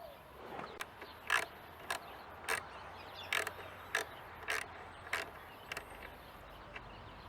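Bolts on a Honda CT 110 Trail are being tightened with a ratchet, giving a series of sharp, evenly spaced clicks with short pauses between them, fairly faint against a quiet background.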